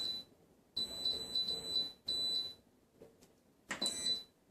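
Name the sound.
Instant Pot pressure cooker beeping as timer is set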